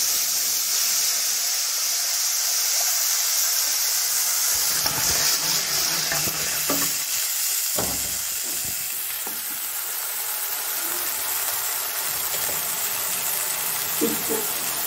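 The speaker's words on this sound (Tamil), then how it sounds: "புளி ஊற்றுறேன்." Tamarind water poured into a hot pan sizzles and hisses loudly, a broad steam-like wash that eases slightly, with stirring clinks and scrapes breaking through later.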